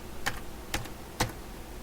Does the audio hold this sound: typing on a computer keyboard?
yes